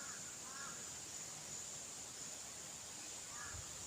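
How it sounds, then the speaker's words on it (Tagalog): A few harsh, crow-like caws ring out from a distance over a steady hiss of wind or water. "Mayroong ibon, ang laki."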